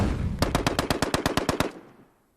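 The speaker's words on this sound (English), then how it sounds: "The Browning automatic rifle, model M1918A2, essentially a light machine gun providing fire support in the squad." A Browning Automatic Rifle M1918A2 light machine gun fires a single sustained burst of about a dozen sharp, evenly spaced shots, loud and close, ending abruptly with a brief fading echo.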